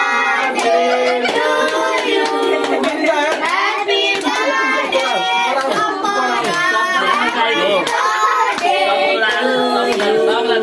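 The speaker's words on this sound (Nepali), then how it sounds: "थपडी बजाउने ह्याप्पी बर्थडे भन थपडी बजाउने" Family members clap their hands together at a home birthday celebration, giving a steady, close patter of claps that runs throughout. Adults and children talk and call out over the clapping.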